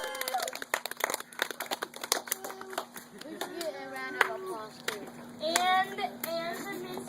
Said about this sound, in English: give the mentors a round of applause